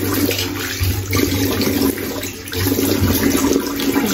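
Water runs steadily from a bathroom sink while a face is rinsed, a continuous loud splashing stream with a brief dip partway through.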